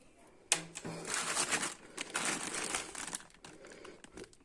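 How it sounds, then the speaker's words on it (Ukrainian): Plastic packaging from an AliExpress parcel crinkles and rustles as it is torn open, a sharp start followed by several seconds of dense, close crackling that eases toward the end. "Так, зараз відкриємо, подивимося, що нам прийшло."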